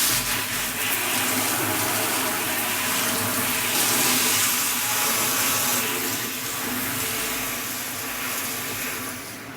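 Water gushing steadily from a hose or tap into a plastic barrel for a koi pond filter, a continuous even rush of splashing held at one level throughout.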